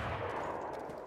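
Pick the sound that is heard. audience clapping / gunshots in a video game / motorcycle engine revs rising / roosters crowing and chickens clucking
gunshots in a video game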